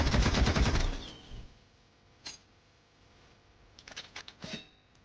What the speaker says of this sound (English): this is the concussion rifle in its very early development phase